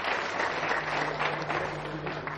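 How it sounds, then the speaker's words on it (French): An audience claps together in a steady, dense patter of applause that fills the room without pause. "On va l'applaudir très fort."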